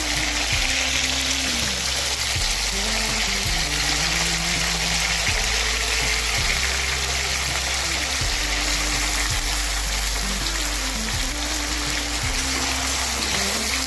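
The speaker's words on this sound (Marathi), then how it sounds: "बटाटा सुद्धा चांगला आता शिजेपर्यंत परतून घ्यायचा" Potatoes sauté in a pan for sabudana khichdi, giving a continuous, even sizzle and hiss that runs the whole time at a steady level. A faint low hum sits underneath.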